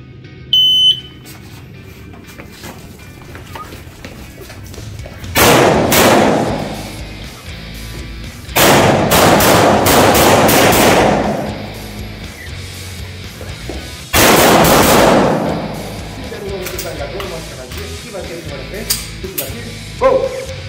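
Three loud gunshots sound at a shooting range at the Winchester Clube de Tiro in Itapema, Santa Catarina. They come several seconds apart, each a sharp close blast with a long echoing decay, over quiet room noise.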